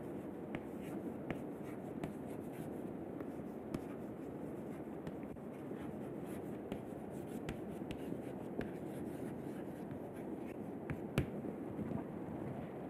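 Chalk or marker scratching across a lecture-hall board while a thermal gradient graph is drawn, a continuous faint rubbing stroke sound with occasional sharp taps, no talking over it.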